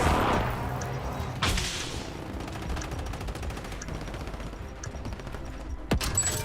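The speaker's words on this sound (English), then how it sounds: "Friendly airstrike in the AO." Video game battle in which a friendly airstrike lands amid gunfire, with a loud blast, steady rattling bursts of shots under it and another sharp report near the end.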